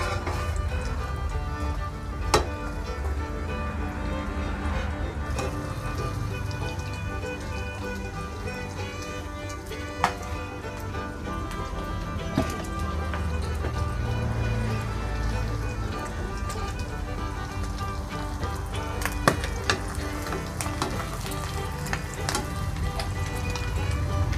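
An omelette with nham, Thai fermented pork, frying in a pan gives off a steady, close sizzle and crackle of hot oil, with a few sharper pops along the way and no talking.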